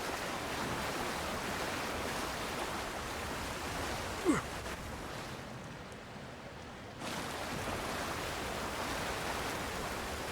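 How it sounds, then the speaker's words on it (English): A waterfall rushes with a steady broad hiss in the video game Avowed, constant and enveloping, briefly dipping quieter in the middle before returning at full strength. "So they hiding behind this fucking waterfall"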